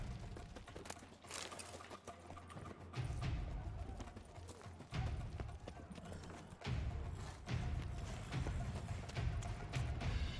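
Horse hooves pound in a rhythmic gallop inside The Witcher 3, a steady clip-clop carrying through the whole stretch with low thumping surges and game ambience behind it, no voices over it.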